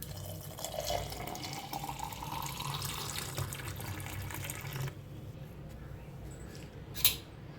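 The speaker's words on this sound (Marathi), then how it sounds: "ज्यूस ओतूया हे" Watermelon juice poured into a glass, a steady liquid pour running for about five seconds, then quieter room sound with a brief knock near the end.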